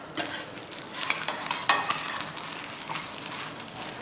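Omelette vegetables frying in an electric skillet, with a crackling sizzle and irregular sharp pops and stirring clinks, close by and with no talk.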